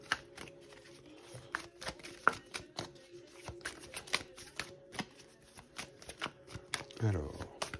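Tarot cards being shuffled in a close, steady run of papery riffles and flicks, with soft rustles between them and a louder flurry near the end.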